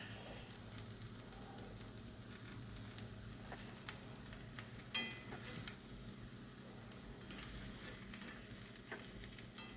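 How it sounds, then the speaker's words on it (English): Food sizzles and crackles steadily in a hot iron skillet, a continuous close frying hiss with occasional pops and a few light scrapes. "Hear it sizzle."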